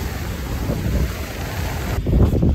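Strong wind buffets the microphone during a cold-weather paddle toward an island, a loud, steady low roar with gusty swells that grow heavier near the end.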